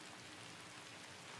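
Heavy rain falling outside, a dense, even hiss of downpour with no breaks, faint and distant-sounding, with no voices.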